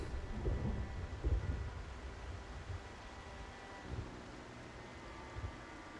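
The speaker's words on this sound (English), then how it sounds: "They're getting rain." Rain hisses steadily while low thunder rumbles roll in and out, fairly quiet and distant, from the video game Project Zomboid.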